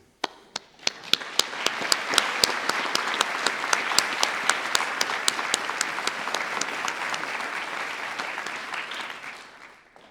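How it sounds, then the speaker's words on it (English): At a University of Aberdeen winter graduation ceremony, a large audience breaks into a long round of applause for the graduates, building from a few claps into dense steady clapping before fading. "Give yourself a roof-raising round of applause."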